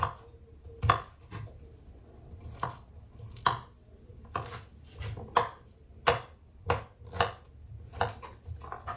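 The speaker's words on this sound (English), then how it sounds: "I've got garlic here as well, just gonna chop it really finely" Knife chopping garlic finely on a board, a series of distinct close knocks at an uneven, unhurried rhythm with quiet gaps between strikes and no voice.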